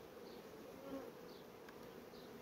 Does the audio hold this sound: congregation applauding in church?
no